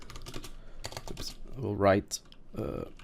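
Computer keyboard keys tapped in quick bursts while typing code, close and moderately loud, with a brief voiced sound partway through.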